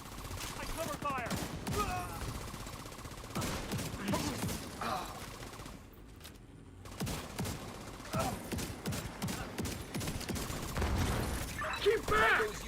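Heavy sustained gunfire from a co-op shooter game pours out as covering fire, with a brief lull midway before volleys resume, and players' voices mix in.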